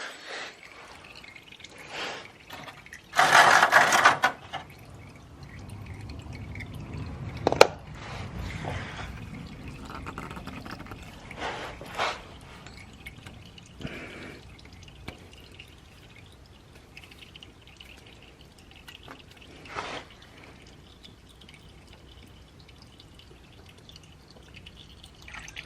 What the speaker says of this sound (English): Once you guys get this loosened up, more oil is gonna come out